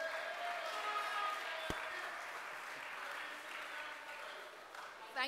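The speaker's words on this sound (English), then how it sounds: "Let's give Melvin and his family a round of applause" A rally crowd breaks into applause, a broad spread of clapping that slowly fades. A few voices mix in, and a sharp knock or bump briefly cuts through.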